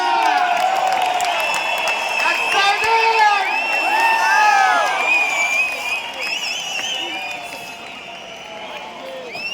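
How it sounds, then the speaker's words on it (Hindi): A large stadium crowd at the 2023 RCM 23rd anniversary event, Indira Gandhi Stadium, New Delhi, cheers, claps and whistles loudly and continuously, with shrill whistles and shouts rising over steady applause. "खड़े हो जाइए, ताली बजाइए, सीटी बजाइए।"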